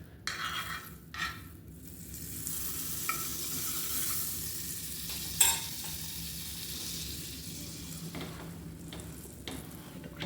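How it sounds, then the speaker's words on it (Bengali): Bread toasts in butter in a frying pan that had just held an omelette, a soft continuous sizzle with occasional clinks of utensils against the pan, close and fairly quiet, no talking. "এবার এটা বাটার দিয়ে টোস্ট করে দেবো।"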